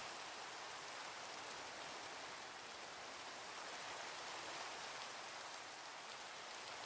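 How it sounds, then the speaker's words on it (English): Minecraft rainfall hisses as a steady, even wash of falling drops, faint but continuous throughout, with no voices over it. "the rain in Minecraft doesn't even have any sort of preparation fit"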